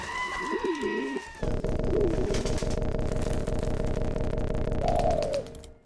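Pigeons coo in the video game Jazzpunk, soft low hooting calls repeating over a steady droning game soundscape, fairly faint and with no voices.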